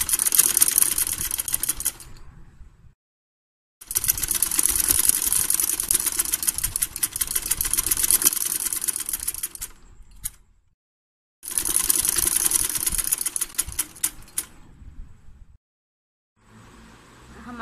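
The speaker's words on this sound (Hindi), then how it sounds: "अब हम इसको इस तरह फोल्ड करेंगे और इसके ऊपर सिलाई लगा लेंगे।" A sewing machine stitches a small girl's frock in three long runs of fast, even needle chatter, close and loud, separated by short silent pauses, with a fainter brief start at the end.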